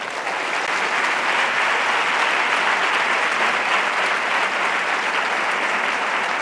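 A large audience at the EXDUCERE 2023 education congress in Spain applauds schoolchildren from CEIP San Ildefonso of Talavera who opened the event. The clapping is loud, dense and sustained, with an even roar throughout.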